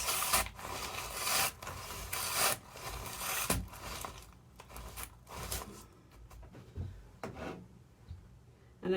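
Potting soil being mixed by hand before a basil transplant makes irregular gritty rubbing and scraping bursts that come and go with short pauses.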